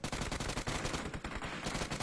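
Rapid gunfire from the video game PUBG Mobile crackles in dense automatic bursts, steady and moderately loud throughout a short stretch.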